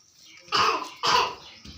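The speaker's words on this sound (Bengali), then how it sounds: "আরো কাশি হবে গরমে" Two loud, harsh coughs about half a second apart, close by, followed by the start of a third, on a hot rooftop; no talking.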